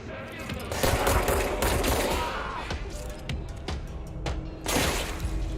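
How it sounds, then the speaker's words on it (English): Rapid gunfire in the Control game, punctuated by glass windows shattering, with dense, loud volleys of sharp cracks and breaking-glass bursts throughout, including a strong burst near the end. "Oh, you can shoot through windows."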